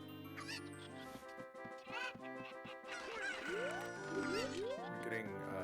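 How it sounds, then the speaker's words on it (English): Chickens cluck and squawk in the Zelda: Ocarina of Time Randomizer game, several short calls and rising chirps over a busy tonal music bed, fairly loud and continuous. "We're getting chickens and chickens on screen."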